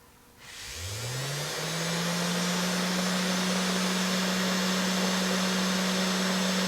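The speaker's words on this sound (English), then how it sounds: "Takes a little while for the motor to spin up." A DC motor powered from a bench power supply spins up, its whine rising steadily in pitch over a second or so and then settling into a constant hum.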